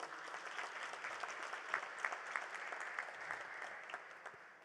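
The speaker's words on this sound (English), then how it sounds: "May we give him a big round of applause." An audience at the Swaziland Educational Research Association launch event gives a round of applause: sustained, moderately distant clapping from many hands, fading slightly at the end.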